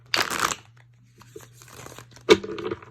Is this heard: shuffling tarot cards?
yes